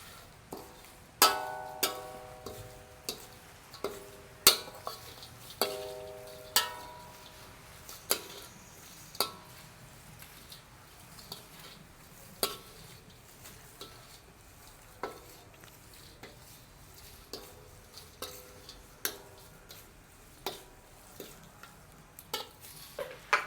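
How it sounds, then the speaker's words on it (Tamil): Prawn sambal being mixed by hand-held spoon, with regular clinking knocks against the pot roughly once a second over soft scraping and rustling, close and unaccompanied by talk. "இப்படி நல்ல வடிவாக கலந்து விட்டால் சரி"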